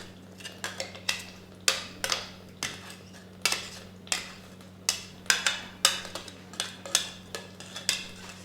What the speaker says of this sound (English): Put the spoon and scrape it all out